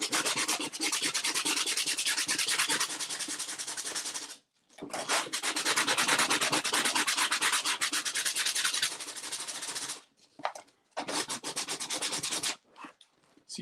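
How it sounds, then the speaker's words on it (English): Sandpaper rubs rapidly back and forth over putty on a model tugboat hull, close and steady in long bursts separated by short pauses, with a few quick strokes near the end. "that really big lump right there that we're sanding"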